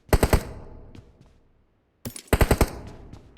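Video game gunfire comes in two loud bursts of rapid automatic shots, each fading into a short echoing tail, with a brief silent gap between them.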